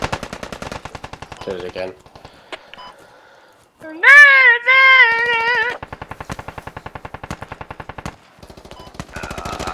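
Rapid automatic gunfire from a video game weapon rattles out in repeated bursts, loud and close, mixed with electronic beeps and players talking over voice chat.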